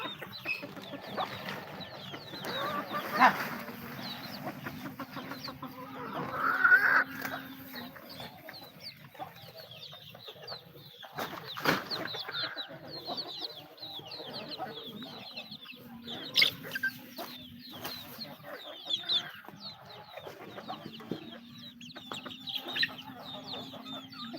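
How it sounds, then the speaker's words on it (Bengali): Farm chickens gather at a poultry farm, making intermittent low clucks and a few louder squawks at moderate distance over a quiet background. "দেখেন মুরগিগুলা এখন একে একে আসছে"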